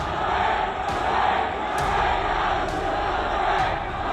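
A crowd of rioters in Nagpur shouts and roars together in a continuous, distant-sounding din, with sharper cries rising out of it now and then.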